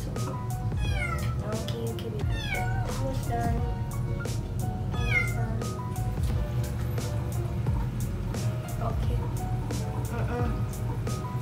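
A shelter cat meows repeatedly while being showered after soiling itself, its cries rising over steady running water and spray, with a person talking softly throughout.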